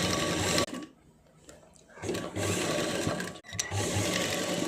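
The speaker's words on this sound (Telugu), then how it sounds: "రెండు వైపులా అతికిస్తాను, నేను స్టిచ్ చేశాను." A sewing machine stitches the front part of a blouse in loud, fast whirring runs, pausing briefly twice before starting up again, with no talking.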